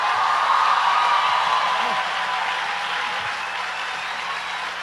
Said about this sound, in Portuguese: Se é para aplaudir, aplaude tudo junto.